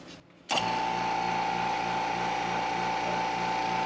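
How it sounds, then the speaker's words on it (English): A vacuum pump under a tempered glass lid switches on abruptly after a short quiet moment, then runs with a steady mechanical drone and a constant whining tone. "we turn on the pump"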